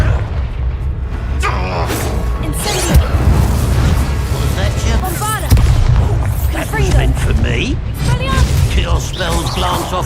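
Bombarda spell explosions during Hogwarts Legacy combat, repeated booming blasts and crashes amid dense game sound, with voices shouting spells and talking throughout.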